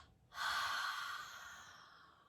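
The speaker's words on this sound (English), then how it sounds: "Letting it out, 2 exhales." A single long, deep exhale through the nose during a guided meditation breathing exercise, beginning abruptly as a close, airy rush and slowly fading over about two seconds.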